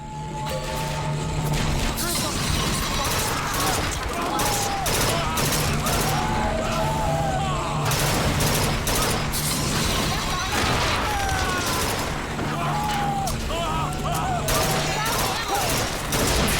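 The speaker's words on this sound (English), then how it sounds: "Another gunship on the left. Rockets over there." Rockets and heavy gunfire during a gunship fight in the video game Bioshock Infinite, with dense, loud, continuous volleys and explosions and a game character's voice speaking over them.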